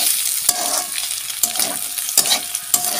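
Shredded potatoes with egg fry and sizzle in a pan. A steady hiss runs throughout, broken by several sharp scrapes of a spatula stirring at irregular intervals.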